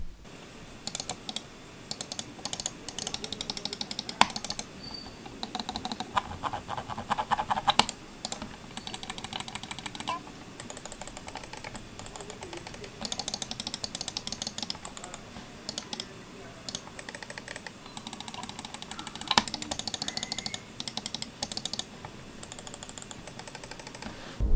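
Crisp clicks from the buttons of a Logitech G102 Lightsync gaming mouse come in quick irregular bursts with short pauses between, close and fairly quiet, with no talking.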